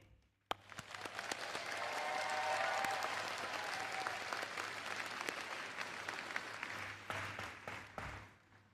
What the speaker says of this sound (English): Would all graduating students please turn and join me in a hearty round of applause to thank your family and friends